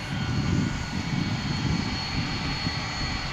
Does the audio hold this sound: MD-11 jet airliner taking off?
yes